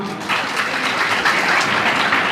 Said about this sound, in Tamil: அதுக்காக அவருக்கு ஒரு கிளாப் பண்ணுவோமா?